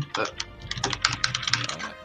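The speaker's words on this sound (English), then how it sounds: "sorry for the keyboard noise" A brief burst of computer keyboard typing at a commentator's desk during an Egypt vs Poland national tournament, quick close clicks clustered under a short spoken word.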